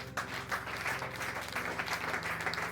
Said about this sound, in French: Acclame d'abord très fort.